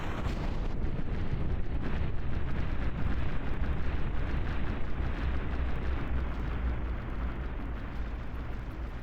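Missiles and mortars explode during a battleship battle in the From the Depths game, heard as a sustained, dense roar of blasts and rumbling, loud and continuous across the whole stretch.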